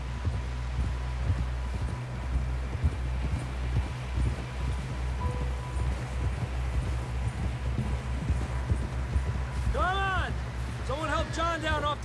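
Horses gallop in Red Dead Redemption 2, with a continuous rapid thudding of hooves under a low rumbling wind, joined late by whistling, whinny-like calls.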